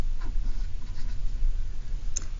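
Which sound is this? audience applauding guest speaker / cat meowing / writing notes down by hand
writing notes down by hand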